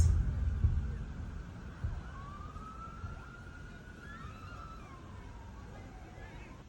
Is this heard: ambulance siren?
yes